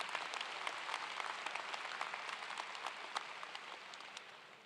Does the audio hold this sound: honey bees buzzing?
no